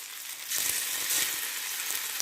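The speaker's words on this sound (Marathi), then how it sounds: "आता आपण एक एक करून अशी वडी सोडूया तेलामध्ये" Pieces of moong dal aluwadi drop one at a time into hot oil for deep frying, and a soft hiss swells into a steady bubbling sizzle, close and moderate in level, with no speech.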